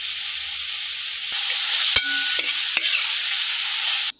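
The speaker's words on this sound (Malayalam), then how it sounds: "ഇനി നമുക്ക് സബോള വാട്ടാവേ. ചിക്കനിലേക്കുള്ള സബോളയാണ്." Onions sauté in a pan for chicken biryani with a loud, steady sizzle, broken by a few sharp clacks of a stirring spoon against the pan.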